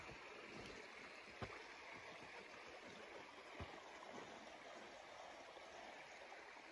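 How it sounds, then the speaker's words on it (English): A river creek runs far below a mountain trail with a soft, steady rush of water, faint and distant, broken by a couple of sharp clicks nearby, with no talking. "here's a little river creek we've been following most of the day."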